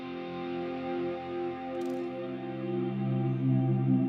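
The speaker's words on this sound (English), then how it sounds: "I would probably go with the Toemaster Pro because that has the reverb sounds I really like to hear when I'm doing this ambient swell type stuff" Ambient electric guitar swells drenched in long reverb from a Toemaster Pro modeler, sustained chords blooming and fading smoothly with a steady wash of tail, played alone without voices.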